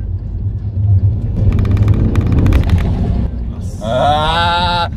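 A car engine with a Toyota 2JZ motor revs loudly with deep rumbling and sharp popping bursts, then a high whining turbo-like sweep near the end.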